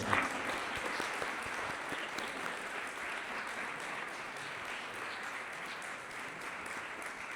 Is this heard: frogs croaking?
no